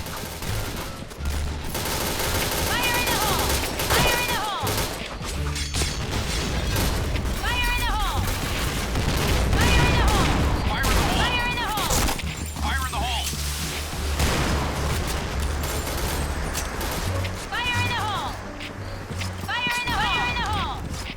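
Jackhammer automatic shotgun fire in the online shooter Point Blank, repeated heavy blasts in short bursts and spread-out single shots over game noise, with someone talking throughout.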